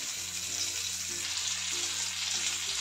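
Pomfret fish fries in a pan with a steady, soft hiss and sizzle of hot oil, faint and continuous without talk.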